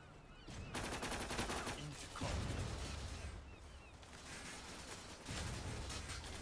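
Rapid bursts of automatic gunfire from the online shooter Zula crackle loudly and almost continuously, broken by short pauses, with heavy impacts and mechanical clatter mixed in.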